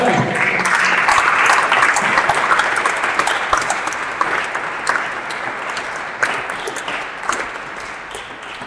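Audience applause at a press conference for the Eskulari Pro Master finalists, a dense, steady wash of many hands clapping throughout that gradually thins and softens toward the end.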